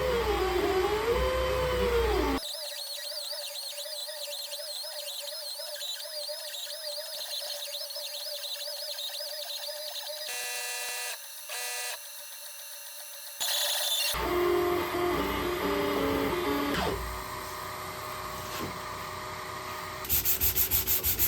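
A laser head fan whirs steadily on an X-Carve Pro CNC while it engraves a tempered hardened steel card scraper, a continuous rubbing hiss with tonal drone shifting in sections, close and fairly loud, no talk.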